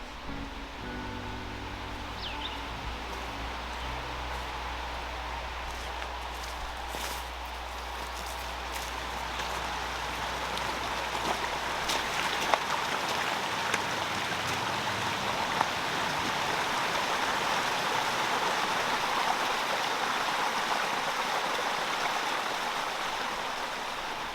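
A mountain stream at a quiet trailside parking area gives a steady, broad rushing of flowing water, even and continuous throughout, with no voices.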